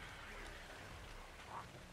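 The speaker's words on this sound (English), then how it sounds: "It's raining." Rain falls in the video game ARK, a soft, steady hiss of drops that runs quietly and evenly throughout.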